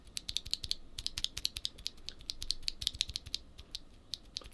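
Rapid clicky typing on a Redragon VATA mechanical keyboard with brown switches, a steady patter of close key presses with slight irregular rhythm and no talking.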